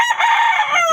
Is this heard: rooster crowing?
yes